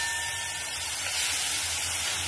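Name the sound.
onion paste frying in oil for crab curry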